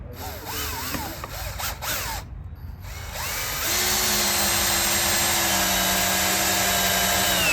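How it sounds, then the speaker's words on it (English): A power drill drives a screw into a wooden block while a roping dummy is being built. A few short clicky bursts come first, then after a brief pause comes a long, steady, close whirring whine. "We're gonna cut it a little big so it fits snug and then just screw it in there"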